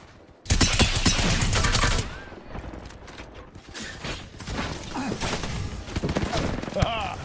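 Rapid automatic gunfire from a shooter video game bursts loud and dense at first, then continues as scattered shots and mechanical clatter under a busy mix, with a voice talking at times.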